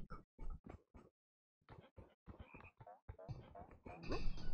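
A frog in TOEM croaks in a series of short, loud, close croaks with brief gaps and a longer pause, later coming faster and more tangled.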